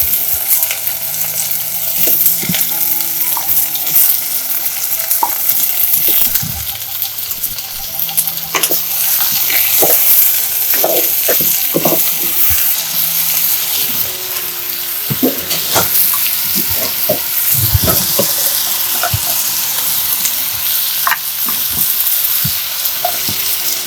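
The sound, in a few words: papaya frying in a pan for curry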